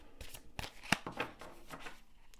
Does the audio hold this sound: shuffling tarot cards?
yes